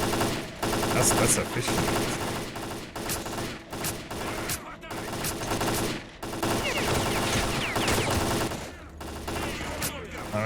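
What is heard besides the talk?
gunfire in STALKER: Clear Sky video game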